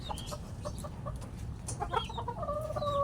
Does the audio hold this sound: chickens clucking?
yes